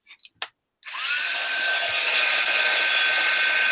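A hair dryer blows steadily on wet art glitter glue, starting after a few brief knocks and then holding a loud, continuous whooshing hum close by with a faint whine on top.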